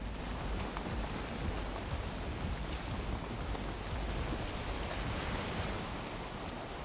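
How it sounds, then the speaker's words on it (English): Rain falls in the video game Valheim, a steady, soft broadband hiss of rainfall holding at a constant low level throughout with no voices over it. "Hey, it's raining. Maybe it's gonna start storming."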